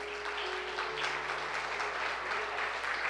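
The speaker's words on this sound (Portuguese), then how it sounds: "A igreja pode se assentar aplaudindo e glorificando o nome do Senhor." A church congregation applauds together indoors, a steady and dense wash of clapping that holds at an even level for a few seconds with no voices rising above it.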